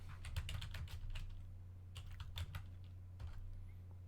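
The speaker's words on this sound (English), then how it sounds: "let's type in Lake Biwa" Typing on a computer keyboard, with quick bursts of clicking keystrokes close by over a steady low hum. The tapping pauses briefly near the middle and then resumes in another short run.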